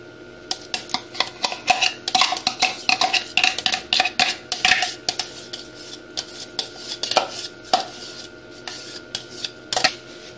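Chocolate tart filling and cream stirred in a bowl with a metal utensil, a busy run of clinks and scrapes against the sides that thins out into occasional taps.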